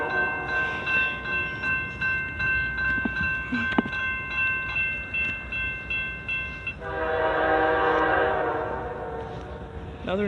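A Norfolk Southern freight train passes a railfanning spot in Chesterton, Indiana, sounding a long, loud multi-tone horn blast over the steady rumble of rolling cars, the horn swelling louder toward the end.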